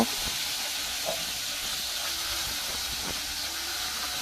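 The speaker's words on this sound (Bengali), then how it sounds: "এইভাবে মাছের মাথাটাকে ভেজে নিচ্ছি" Fish heads, coated in spices, fry in hot oil in a wok, giving a steady broad hiss and sizzle that stays fairly even throughout, with a few faint clicks and no voices.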